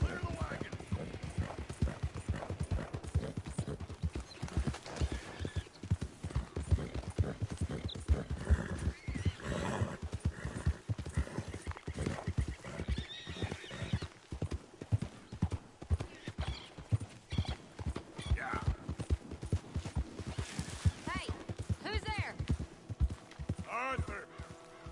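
Steady rhythmic clip-clop of horse hooves from a horse ridden in the video game Red Dead Redemption 2, close and continuous throughout, with a couple of neighs and whinnies breaking through over the background.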